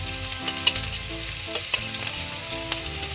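Chopped garlic, ginger and green chili frying in oil for a cauliflower manchurian, a steady close sizzle with a few sharp spatula scrapes and pops scattered through.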